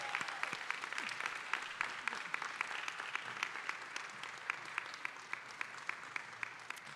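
An audience at a school district teacher of the year awards dinner applauds for an honoree's family and school supporters, a dense, even round of clapping held for several seconds at moderate distance.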